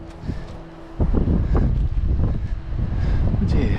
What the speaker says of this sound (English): a bit windy now